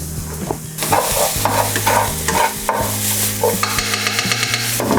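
Peppers frying in a pan for prawn chow mein, loud close sizzling with constant stirring and scraping of a utensil against the pan, a dense busy cooking sound with no talk.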